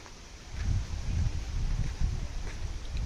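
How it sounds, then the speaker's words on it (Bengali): Strong gusty wind ahead of a Kalbaisakhi storm in Lakshmipur, bending the trees, roars and buffets close to the microphone in a steady low rumble that swells in surges throughout. "এখানে অনেক জোরে সোরে বাতাস হচ্ছে"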